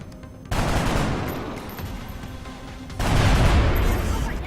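Rapid gunfire rattles in the video game XCOM: Long War, two loud bursts of dense automatic shots with a short lull between them.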